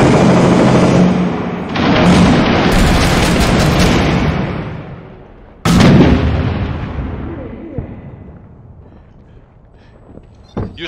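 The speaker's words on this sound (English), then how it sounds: "Hold on, I'm chucking a nade up there." A loud grenade blast in the co-op shooter Six Days in Fallujah: an initial roaring burst, then a second sharp explosion midway that rumbles and decays into lingering debris and ambient noise.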